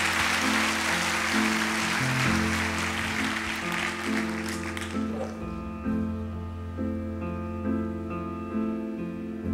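A studio audience applauds on a French TV talent show, a broad wash of clapping under loud band music that fades out about halfway, leaving the music alone.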